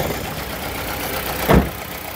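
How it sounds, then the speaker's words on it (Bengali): A used car's engine runs at a quiet, even idle after starting, close by, with one short louder thump partway through. "দেখেন গাড়িটা কিন্তু স্টার্ট করলাম"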